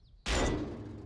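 A single sharp metallic impact of a shell striking a tank turret in the IL-2 Tank Crew game, loud and close, with a brief ringing decay after a near-silent lead-in.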